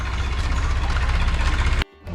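A tractor engine roars close by on a small village road, a loud, steady chugging drone that stops abruptly near the end.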